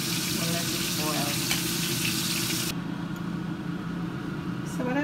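A pot of roots for Guyanese metemgee boils on the stove, giving a steady bubbling hiss close by that eases slightly partway through.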